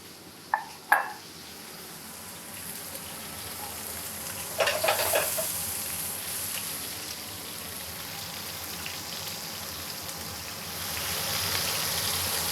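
Beef short ribs searing in a pan with vegetables give off a steady, soft sizzle, with a couple of sharp utensil knocks early on and a brief stirring scrape midway, and no talking.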